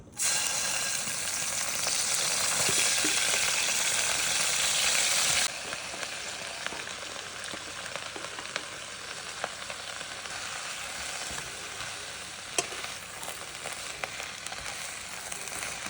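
Two tablespoons of soy sauce hit hot oil in a pan for gochu japchae, bursting into a loud hissing sizzle that drops after a few seconds to a steadier, quieter crackle with occasional sharp pops.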